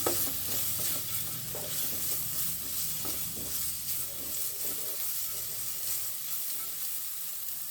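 Vegetables for veg spring rolls, seasoned with salt, black pepper and red chili powder, being stirred in a hot pan; a steady loud sizzle runs throughout with scraping spatula strokes, close and continuous, no voices.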